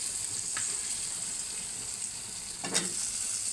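Vegetables and fish frying in a pan give a steady broadband sizzle throughout, with a couple of brief stirring scrapes, the louder one near the end.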